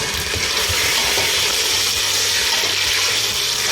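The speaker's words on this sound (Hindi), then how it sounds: "इसके अंदर हम अदरक लहसुन पेस्ट डालेंगे और गोश्त भी ऐड कर देंगे, मिक्स कर लेंगे" Ginger garlic paste and meat stirred and fried in a pot for haleem, a loud continuous sizzle with scraping stir strokes and spoon knocks, close up with no talking.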